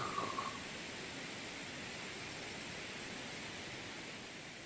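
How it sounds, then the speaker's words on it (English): A waterfall on a golf course gives a steady, soft wash of falling water. The hiss is even and unbroken and sounds moderately distant, and a faint brief chirp is heard at the start. "You get to hear the lovely sound of waterfall"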